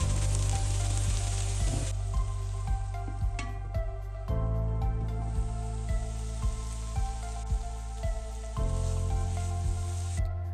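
Carrots stirred and frying in a hot pan while preparing Thai-style meat, a steady loud sizzle with repeated soft scraping and clinking stirs throughout, no voices.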